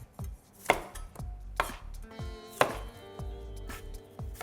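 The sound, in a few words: chopping cucumber into slices with a knife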